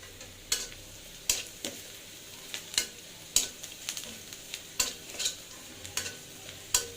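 Onions frying in a pan, heard as a steady soft sizzle broken by sharp, regular scrapes of a spatula roughly every half second to second, close and moderately loud with no voices.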